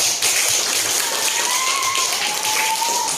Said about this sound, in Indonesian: Yuk, tepuk tangan lagi baru.